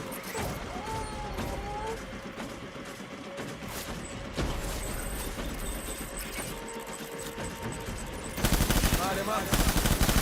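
Rapid automatic gunfire in the Death Stranding video game, dense bursts of shots running continuously and growing louder toward the end, mixed with a voice speaking over the shooting.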